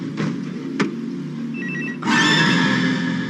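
A telephone at a street telephone booth rings, first a couple of short bell bursts, then a loud sustained ring that fills the second half, heard near and alone without talk.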